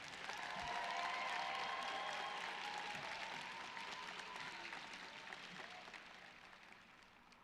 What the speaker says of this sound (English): Can we give her a huge round of applause?